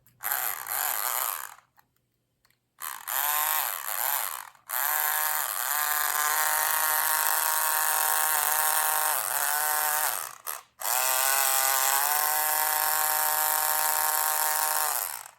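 A small Ninco slot car electric motor, with a repaired, lapped and oiled pinion, whines steadily at high pitch, revving up and down in several runs broken by brief pauses.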